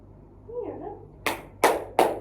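Three sharp, loud hand claps ring out in quick succession during a classroom 'tepuk semangat' cheer, preceded by a brief faint voice.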